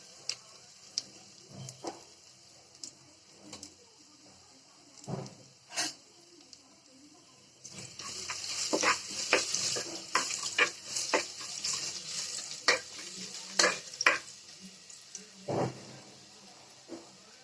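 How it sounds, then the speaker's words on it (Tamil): Oil crackles and sizzles with scattered sharp pops, growing louder and denser midway as cumin seeds fry steadily in a pan, with no talking. "ஜீரகம் நல்லா பொறிஞ்சிருச்சு"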